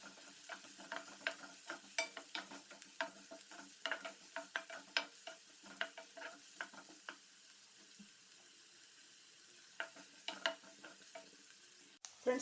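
Chopped green chillies frying with onions in a pan, a spoon scraping and stirring in quick repeated clinks over a soft sizzle, with a pause before stirring resumes.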